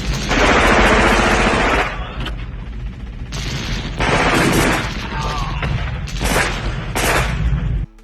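Intense gunfire and explosive blasts from a film battle scene in The Predator, an assault on a jungle guerrilla camp, coming in loud dense bursts separated by brief quieter gaps across the clip.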